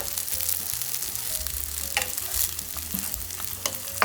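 Enoki mushrooms, tofu and egg pan-frying in a small amount of oil, with a continuous close sizzle and crackle, occasional sharp pops and light stirring scrapes throughout, and no talking.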